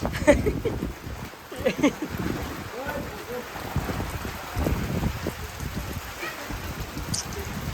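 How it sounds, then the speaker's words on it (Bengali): Steady patter of rain falling on surfaces, with scattered drops and gusts of wind, faint voices murmuring in the background. "সাদের অনুষ্ঠান হইলেই বৃষ্টি নামে"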